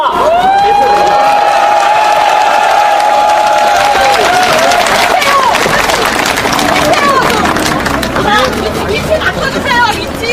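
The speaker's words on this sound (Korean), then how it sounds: "여러분의 힘찬 박수와 함성으로 시작하겠습니다" A crowd at an outdoor political campaign rally applauds and cheers, loud and continuous, with a shouting voice and tonal sounds over it at first, then massed clapping and crowd noise.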